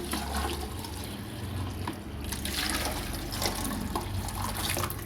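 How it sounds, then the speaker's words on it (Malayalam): Hot rice water poured into a stoneware pot (kalchatti) makes a continuous loud, close gush and splash that fills the whole stretch without pause. "നമ്മൾ ഇതിലോട്ട് നല്ല ചൂടുള്ള കഞ്ഞിവെള്ളം ഒഴിച്ചു കൊടുക്കാൻ പോവുകയാണ്"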